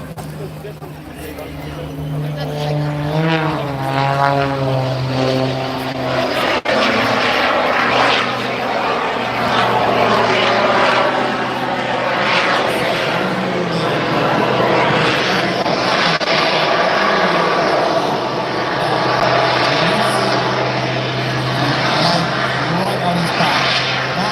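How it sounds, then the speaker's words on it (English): A fixed-wing aircraft's propeller engine at an air show spools up, rising in pitch as it runs loud and close for the whole stretch, with a commentator talking over the noise. "So you can put the aircraft on now, and right towards us. Listen, and hear him spooling up."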